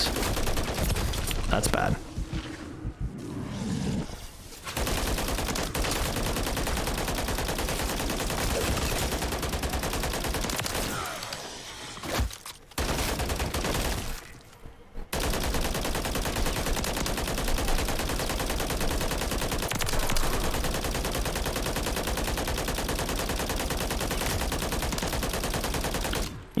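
Dense, sustained gunfire from a Call of Duty Modern Warfare Zombies match, loud and nearly continuous with a few brief gaps, while players talk over the shooting.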